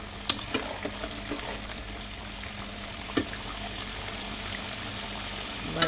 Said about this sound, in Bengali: বারবার মাংসটা খাইতে নেড়ে করে দিচ্ছি যাতে তলানিতে ধরে না যায়।